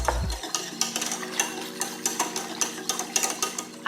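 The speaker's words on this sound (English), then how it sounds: "we're going to stir this until it is all dissolved" A spoon stirring sweetener into half a cup of water in a pot, quick rhythmic clinks and scrapes against the metal, close and clear without talk.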